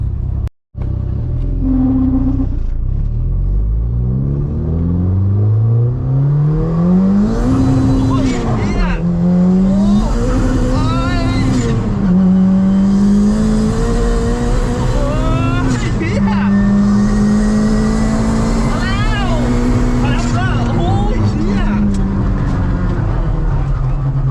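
A turbocharged 500-horsepower Honda Civic FB revs hard, its engine note climbing and dropping through several loud pulls with crackling overrun and traffic rumble beneath.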